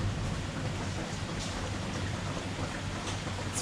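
Warm rain in Bali pours down steadily in a close, hissing wash with a low rumble beneath, unbroken and without voices.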